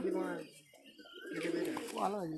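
Large Kalpora Kaldom pigeons of the Serampore line coo in a steady rolling series, close by, with people talking over and around the calls.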